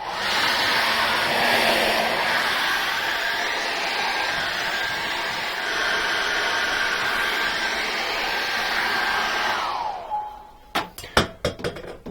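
A hair dryer blows on wet paint with a loud, steady whoosh for about ten seconds, then switches off, followed by a few sharp knocks and clatters.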